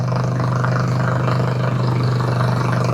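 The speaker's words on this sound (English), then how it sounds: "it's a very good sounding motorcycle" Harley-Davidson Sportster 1200 motorcycle engine, loud and close, holding a steady deep idle-like rumble with a strong low throb throughout and no talk.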